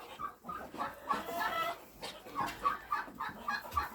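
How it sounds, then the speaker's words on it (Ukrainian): Broody hens kept apart from the main flock cluck in a series of short, soft, rhythmic calls, fairly close and moderately quiet, with faint barnyard noise between them. "квочки в мене сидять окремо від основного стада"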